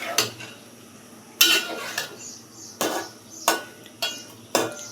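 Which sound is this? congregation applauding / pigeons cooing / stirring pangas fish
stirring pangas fish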